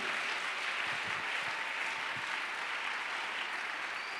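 Sustained applause from a church congregation, steady and fairly distant, filling the whole stretch without a break.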